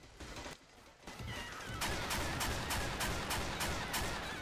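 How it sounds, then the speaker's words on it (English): Pipe bomb explosion in the game Left 4 Dead 2, a loud blast followed by a rapid string of sharp cracking bursts, heard alone in a chaotic game scene. "The pipe bomb explosion doesn't light gas cans on fire."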